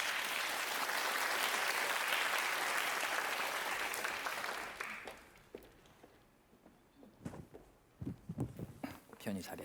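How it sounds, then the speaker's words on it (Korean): Audience at an arts presentation stage event applauds as a photographer and writer walks on, loud sustained clapping for about five seconds that then thins out, followed by scattered footsteps and shuffling on stage. "황예지 작가 큰 박수로 모시겠습니다"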